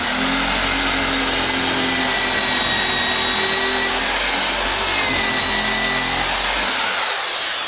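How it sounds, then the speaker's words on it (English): An Einhell 1010w impact drill whirs loudly and close, boring steadily through wood with a continuous grinding whine that winds down at the end. "We'll just go through this piece of wood here."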